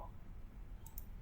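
Two quick faint computer mouse clicks in close succession, small and dry against a quiet background hum.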